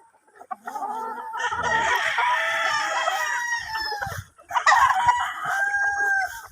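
Young stag gamecocks crow on a farm where fighting roosters are raised, one long cock-a-doodle-doo running loud and close, then a brief pause and a second crow, with no talking over it.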